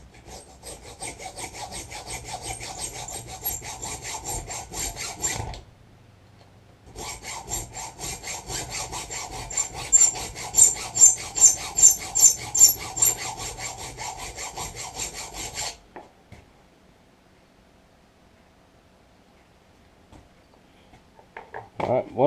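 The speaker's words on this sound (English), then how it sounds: "And all these are chainsaw files." A round chainsaw file rasps against metal in steady, rhythmic strokes while a custom knife is shaped, pausing briefly and then continuing before stopping near the end.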